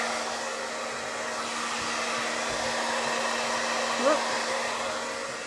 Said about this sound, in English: I have a blow dryer.